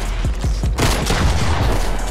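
Rapid volley of gunfire from a shooter video game during a jump shot, a few sharp shots followed by a dense, loud burst of continuous firing without talk.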